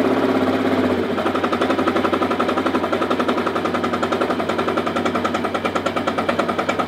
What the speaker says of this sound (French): quand votre pot d'échappement fait un rythme comme ça, c'est que votre carburateur est bien réglé